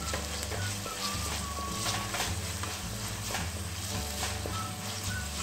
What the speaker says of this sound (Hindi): ये भी हिला दूंगी और ये दालचीनी और लवंग भी डाल दूंगी।